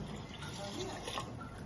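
Water is poured into a pot of soaked rice for mutton pulao, giving a continuous, soft splashing fill over a short stretch, with a voice speaking in the background.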